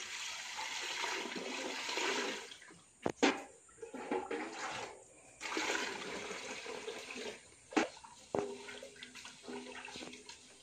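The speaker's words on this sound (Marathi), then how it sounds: "त्याच्यात आता पाणी टाकून 2-3 वेळा चांगलं धुवून घेऊ" Paddy rice seeds washed by hand in water during seed treatment in Jawhar, Palghar: soft swishing and sloshing of water with scattered sharp knocks against the container, fairly quiet throughout.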